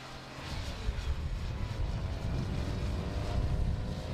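The Jet Van, a jet-engined van at a live track event, roars steadily as a loud broadband jet rumble throughout, continuous and close, with no talk over it.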